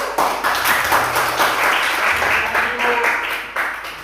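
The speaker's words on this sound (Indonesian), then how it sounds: "Tepuk tangan dulu." A burst of clapping and applause from a class of students, steady for a few seconds, mixed with some background chatter.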